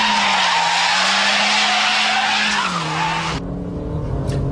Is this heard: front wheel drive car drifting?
yes